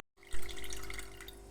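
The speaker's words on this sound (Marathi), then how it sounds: "आपण वरचं पाणी काढून टाकायचं" Water being drained off soaked sago and barnyard millet, a short close trickle and splash after a brief silence, steady and alone.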